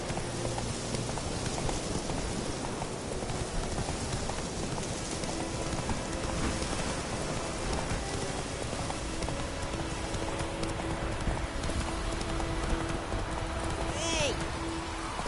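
Roach, the horse in The Witcher 3, gallops steadily with a fast, continuous rhythm of hoof clip-clops over a rain-like ambient wash, close and constant throughout.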